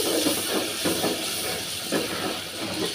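Spices and chili powder sizzling in hot oil in a pan, a steady close hiss with soft crackles running throughout.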